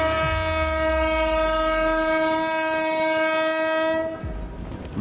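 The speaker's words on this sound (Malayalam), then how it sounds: "ട്രെയിൻ അവിടുന്ന് വീണ്ടും മുൻപോട്ട് പോയി" A train on the Wadi Rum desert railway in Jordan sounds a long, loud, steady horn blast over its rolling rumble, with the horn cutting off near the end.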